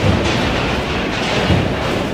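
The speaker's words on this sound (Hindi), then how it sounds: "बैंकॉक में भूकंप के झटके इतने भयंकर थे कि पूरी मेट्रो ट्रेन ही जोरदार तरीके से हिलने लगी।" A Bangkok metro train rattles and shakes during an earthquake, a loud continuous rumble with clattering rail noise and periodic heavy thumps, close and steady.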